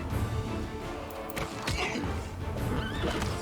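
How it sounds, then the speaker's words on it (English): Horses neigh and whinny amid battle clatter in the video game Pathfinder: Wrath of the Righteous, with a few high whinnies rising over thumping hooves and impacts, moderately loud throughout. "These horses are wild."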